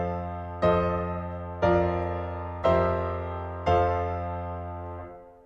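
Four sustained chords of a Quiescenza progression played one after another on a piano, each struck firmly and left to ring before the next, the last fading out.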